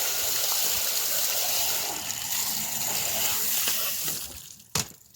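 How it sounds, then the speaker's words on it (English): Water from a garden hose sprays steadily into the cavity of a slaughtered chicken, rinsing it clean. The rushing hiss runs close and loud for about four seconds, then cuts off, and one sharp knock follows. "We get the hose and we just wash it off."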